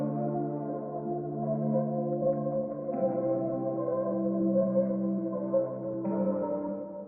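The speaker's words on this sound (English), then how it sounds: "And all I did was just slow it down, pitch it down, and together they sound like this." Slowed, pitched-down textural pad layered under sustained chords in a music production, a dense, steady wash of held tones that shifts chord about every three seconds, playing alone at a moderate level.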